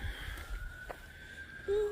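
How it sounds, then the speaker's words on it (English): A faint, far-off siren wails steadily beneath low background rumble on a frosty morning at a cattle farm, with a brief thump near the end. "Then you hear sirens."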